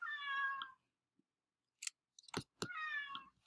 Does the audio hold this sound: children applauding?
no